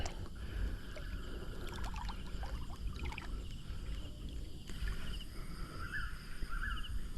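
Steady splashing of a paddle in water from a small boat, continuous and fairly close, with a few bird calls in the background.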